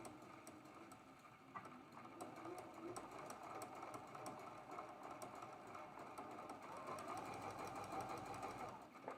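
Sewing machine stitching a quilt block, a quiet, steady mechanical whir with fine rapid ticking that runs continuously throughout.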